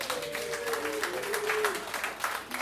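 Comedy club audience claps and applauds in a steady, full wash that holds for the whole stretch, with a faint voice or tone gliding underneath.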